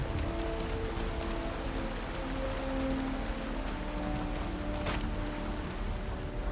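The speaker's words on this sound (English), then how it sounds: "Seems to be raining today in Skyrim." Rain falling in the video game Skyrim Special Edition, a steady, even hiss of downpour that runs unbroken throughout, with faint tonal background music and no voices.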